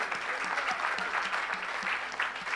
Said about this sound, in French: Clap your hand to Jesus.